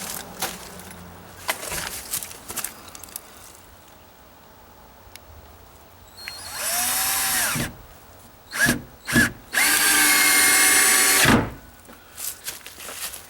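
A cordless power drill drives 2.5-inch screws through a door hinge into the wooden siding of a shed, sounding in a few loud, close bursts of whirring, the longest lasting several seconds, set apart by quieter handling and bumping noises.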